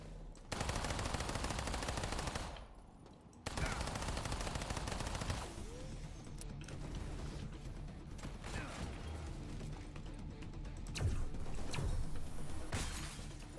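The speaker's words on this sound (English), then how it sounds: "That's the actual assault rifle." Assault rifle gunfire in the video game System Shock, loud rapid automatic bursts that stop briefly and then resume, with mechanical clatter and debris sounds between the volleys.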